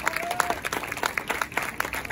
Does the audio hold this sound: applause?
yes